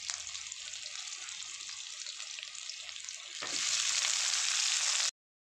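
Chopped tomatoes land in a pan of softened ingredients for a coriander chutney, a steady close frying hiss that swells louder partway through before cutting off abruptly.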